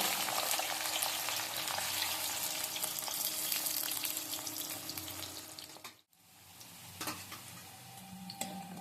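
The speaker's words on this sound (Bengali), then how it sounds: "এবার কাঁচকলাগুলো ভেজে নিচ্ছি" Raw green banana pieces frying in oil make a loud, dense, crackling sizzle that continues almost unbroken, with one brief dip before the bubbling resumes, and no speech.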